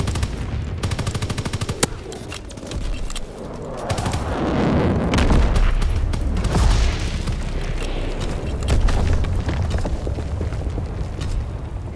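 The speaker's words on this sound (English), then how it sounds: "Launching captured V2 rocket." A captured V2 rocket launches and explodes in the Call of Duty WW2 video game, a loud roaring blast with a deep rumble that swells midway and stays heavy, mixed with steady gunfire throughout.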